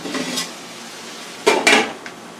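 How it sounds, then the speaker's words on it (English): A lid is set onto a metal cooking pot on the stove, giving two close clanks after a faint earlier rattle. "Now I'm going to put a top on that so that can cook slowly."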